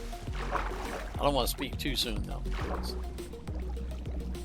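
Steady rushing Minecraft water while surfing down a waterfall, a continuous wash running beneath someone talking.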